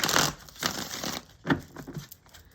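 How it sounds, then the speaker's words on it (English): A deck of tarot cards being shuffled by hand close up: quick papery riffles and soft slaps in a few short bursts, crisp and fairly quiet with no talking. "one more shuffle, guys"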